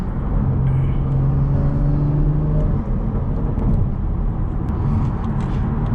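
BMW 440i engine and exhaust in sport mode, driving on city streets in the Bronx with a window cracked, giving a steady loud low rumble and drone with a brief rising tone early on.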